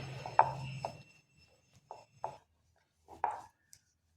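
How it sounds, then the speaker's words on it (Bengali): Kachori dough dusted with flour being rolled out with a rolling pin, giving a few soft, separate thumps and short rolling rubs close by, with quiet pauses between strokes and no talking. "এরপর ময়দা দিয়ে বেলে নিচ্ছি।"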